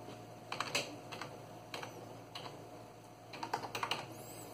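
Password being typed on a computer keyboard during a login, with quick clusters of light key clicks separated by short pauses, heard up close and alone.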